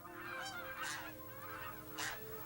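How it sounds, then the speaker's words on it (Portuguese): Geese honk a few times in short bursts over a quiet outdoor field background, moderately near. "Laurence passa a observar os patos e os gansos que vivem nos campos perto de Altenberg."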